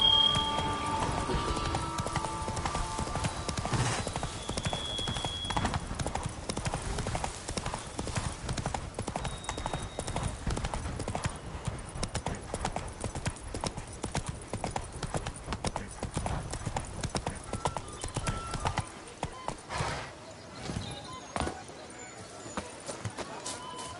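Horse hooves clip-clop at a steady galloping rhythm in The Witcher 3: Blood and Wine, loud and continuous with game music and voices underneath, then tapering off near the end.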